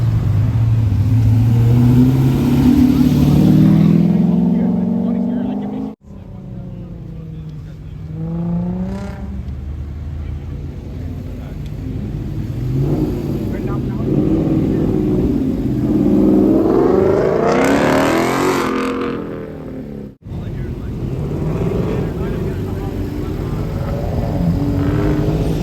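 A car revs hard and accelerates away as it leaves a car meet, with its engine note rising and falling in loud, sustained surges and a passing roar, plus crowd noise in the background.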